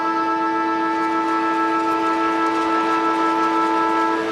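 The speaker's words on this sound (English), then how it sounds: "that will see the half-time siren ring" A loud, sustained half-time siren at an Australian football match between Sydney and Carlton, holding one steady multi-toned blare throughout with no voices over it.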